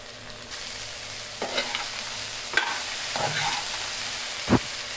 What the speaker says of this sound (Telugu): సాల్ట్ వేసుకొని బాగా కలుపుకొని మీడియం ఫ్లేమ్లో పెట్టుకో